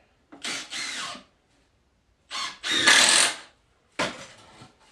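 A power driver sends screws into a plywood exterior wall in three separate bursts, each about a second long with short whirring pauses between them, loud and close, with no speech.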